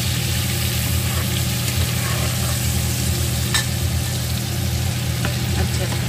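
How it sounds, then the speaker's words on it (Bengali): Turmeric, salt and spices frying in a pan, a steady dense sizzle running throughout with faint stirring and a low hum from a nearby pressure cooker or stove underneath. "এবার আমি কিন্তু খুব ভালো করে একটু লাল করে কিন্তু ভেজে নেব"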